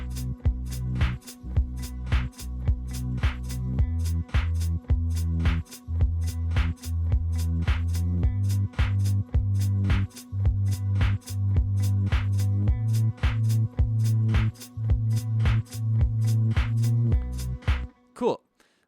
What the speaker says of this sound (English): So the bass line is using the same rhythm I just showed you.